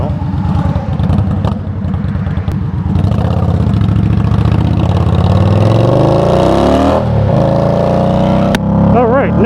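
A motorcycle engine revs and accelerates on an open road, loud and close, with a long rising and falling drone and wind rush. Brief voice sounds appear near the end.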